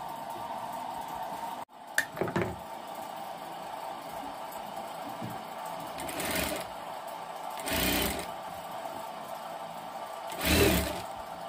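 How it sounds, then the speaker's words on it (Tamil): A sewing machine stitching a full-size 30-inch umbrella canopy runs in several steady whirring bursts of a second or two, separated by quieter pauses and a sharp handling clatter near the start, with no talk. "இப்போ அந்த பக்கம் அதே மாதிரி தைக்க போகிறாங்க"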